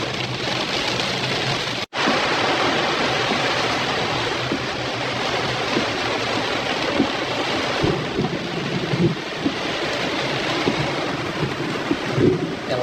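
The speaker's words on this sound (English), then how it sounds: "Lightning is striking all around me." A thunderstorm with lightning striking nearby, heavy steady rain roaring loudly throughout, with low rumbling thunder and brief cracks under the downpour, close and dense.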